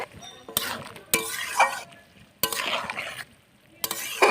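Water lilies being stirred into boiling water in a cooking pot give off bursts of bubbling, sloshing and spoon scraping in several distinct strokes, separated by quieter simmering gaps, close and moderately loud.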